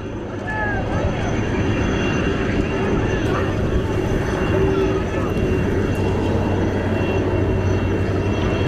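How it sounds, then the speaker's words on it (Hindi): An Air Force special aircraft arriving at Rameswaram, its engines a constant loud broadband roar throughout, with faint voices in the background. "APJ अब्दुल कलाम के पार्थिव शरीर की, जो कि वायुसेना के विशेष विमान के माध्यम से दिल्ली से आज सुबह मदुरई होता हुआ अब रामेश्वरम पहुँचा है"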